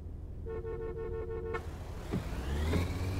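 A car horn sounds in short repeated toots over a steady engine hum, in a taxi, then a longer honk rises near the end.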